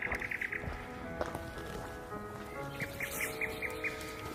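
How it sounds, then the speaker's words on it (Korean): Birds at an outdoor azalea festival give quick repeated high chirps in short bursts at the start and again near the end, with music playing in the background and a busy outdoor hum. "새소리가 납니다"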